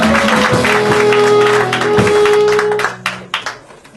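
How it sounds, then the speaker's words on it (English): Comedy club audience claps and applauds loudly for a comedian, a dense crowd roar that thins into scattered claps and fades after about three seconds, with a voice briefly over it. "Give her a big round of applause, everybody."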